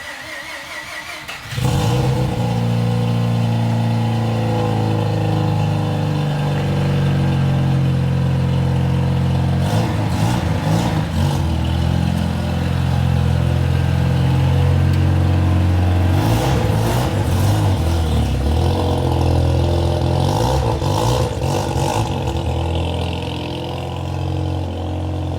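Mazda 13B turbo rotary engine firing up from cold, starting abruptly then settling into a loud, close, lumpy idle with rough pulsing and a few sharp blips of revving.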